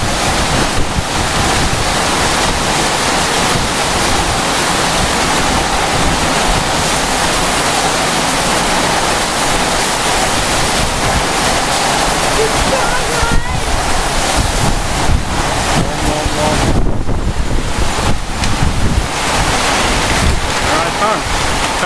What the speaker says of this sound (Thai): ลูกเห็บลงเสร็จลมเริ่มมาแล้ว